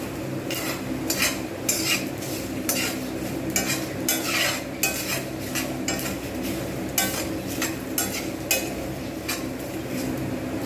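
Chillies and spices dry roasting in a pan, stirred with a utensil that scrapes and clinks in a steady repeated rhythm over a soft continuous sizzle, nearby and without talk.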